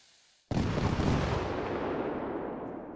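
A single big fireworks explosion in the video game Fireworks Mania: one sudden loud broadband boom after a short quiet moment, then a long rumbling decay that fades slowly without any talk.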